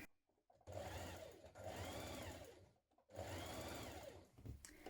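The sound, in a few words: sewing machine stitching a dress seam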